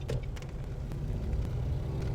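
A car moves off on a driving test course, a steady low engine rumble holding through the whole moment at moderate, close level with no talk.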